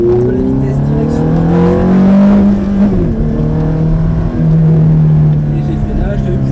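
A Ferrari F430 on a race track accelerates out of a chicane, its engine note rising loud and close through the revs with a brief dip before climbing again, under someone talking.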